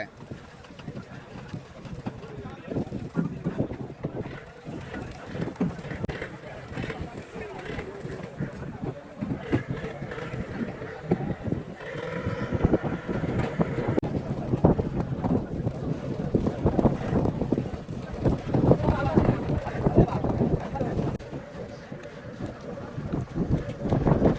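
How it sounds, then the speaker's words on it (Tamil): A fishing boat loaded with fish comes in toward the shore at Thangachimadam harbour near Rameswaram, its low engine rumble steady beneath heavy wind buffeting and people talking nearby. "இப்போ மூணாவது போட்டும் மீன் ஏற்றிட்டு கரையை வந்துகிட்டு இருக்கு"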